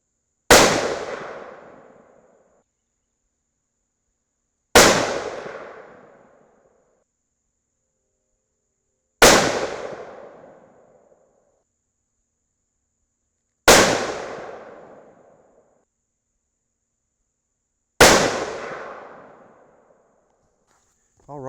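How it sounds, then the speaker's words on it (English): Five unsuppressed rifle shots fired from a naked barrel, each a sharp, loud crack with a ringing decay, spaced evenly about four and a half seconds apart with silence in between. "we've got to go back and shoot 5 more with the naked barrel"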